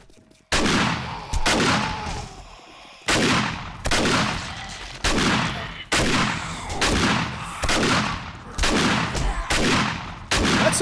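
Shotgun blasts against zombies in the game 7 Days to Die, heavy booming reports fired about once a second in a steady string, each with a short decaying tail, loud and close.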